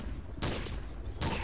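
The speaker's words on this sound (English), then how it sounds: "Shooting." Gunfire in the video game Trouble in Terrorist Town: two loud bursts of shots, one near the start of the second half and another near the end, over a steady game background.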